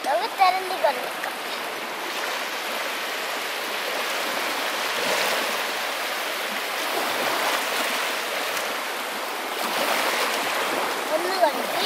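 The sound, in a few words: water washing stingray fish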